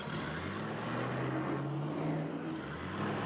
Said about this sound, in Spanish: cuando el coche entra en una recta, vuelve a acelerar